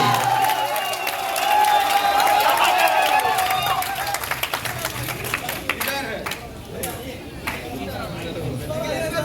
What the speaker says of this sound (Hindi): फ्रेंड्स जोरदार से तालियां बजाइए